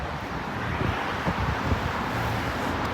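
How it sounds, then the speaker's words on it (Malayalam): Steady outdoor wind in Dubai rumbling against the microphone, a constant low roar with faint traffic-like hum beneath. "നല്ല കാറ്റുണ്ട് കേട്ടോ"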